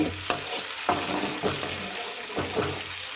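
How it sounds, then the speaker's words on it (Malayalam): Homemade ghee bubbling and sizzling in a pan while a spoon stirs it, with several scraping strokes repeating at a steady rhythm over a constant close fry. "ഇനി നന്നായി ഇളക്കി കൊടുക്കണം കേട്ടോ ഒപ്പം ഇളക്കി കൊടുക്കണം"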